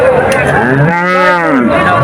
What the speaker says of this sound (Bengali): প্রচুর পরিমাণ গরু দেখেন এই হাটে যে গরু আছে গাই গরু